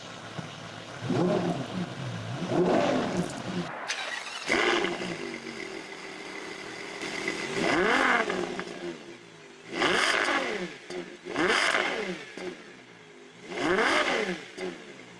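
A Ferrari Purosangue's 715-horsepower V12 SUV engine rumbles loud and close, surging through a series of sharp revs, several short bursts toward the end rising and falling one after another.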